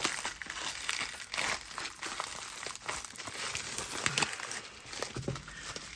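Knife packaging is cut open during an unboxing, with close, fairly quiet crinkling and crumpling of plastic or paper in irregular bursts.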